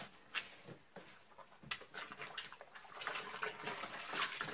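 A small child's shoe is washed under running water with powdered soap, giving irregular close splashing and gushing from the tap, with no one talking.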